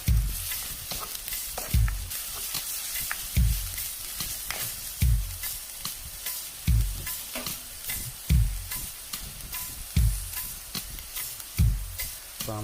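Onions and spices tempering in a spoonful of oil for a black pork curry, a loud continuous sizzle with rhythmic heavy stirring thumps and scrapes about every second and a half, close up and without speech.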